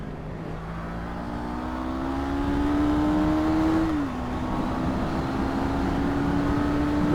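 A Honda CB500 motorcycle engine under way. Its steady tone climbs as revs build, drops sharply at a gear change, then holds and climbs again. The sound is close and continuous over wind and road noise, with no talking.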